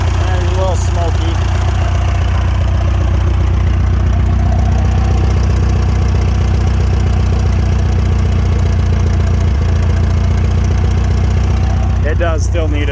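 A Clark C500 forklift engine in need of a tune-up runs steadily at idle, loud and close, with a constant low rumble and a faint uneven knock throughout, a brief clatter near the end.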